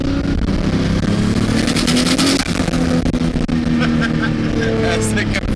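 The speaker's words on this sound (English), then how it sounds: "That's the compressor surge." RB20-swapped Ford AU Falcon with turbo compressor surge: a loud, sustained engine drone with a fluttering whoosh, brief dips and rising tones as revs change, recorded close.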